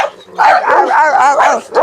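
Dogs bark close and loud in a rapid series of sharp, yelping barks, bursts following one another with brief gaps, with no talking.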